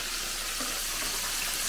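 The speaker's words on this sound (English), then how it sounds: "Frying up some fish." Steady broadband sizzling and crackling of fish frying in hot oil, continuous and fairly close, with no voices.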